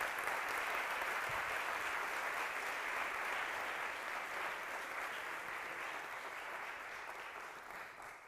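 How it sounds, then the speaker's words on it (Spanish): Sustained applause from an audience, a dense even patter of clapping that fades slightly toward the end. "Un fuerte aplauso para Paz Velasco."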